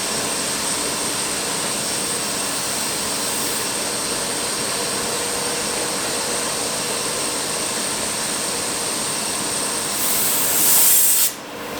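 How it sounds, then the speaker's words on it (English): Air pump inflating a large tyre on a rear rim, a steady loud hiss of rushing air that runs unbroken, with a brief sharper burst of hiss near the end. "The worst part about these bloody tyres is with their, because they're so big, they take so long to pump up."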